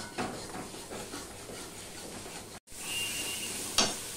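Masala being stir-fried in a pan for a katla fish curry with bhindi and potato: a soft, steady sizzle with spoon scraping and stirring, a brief cut, then a brighter hiss and a light metallic tap.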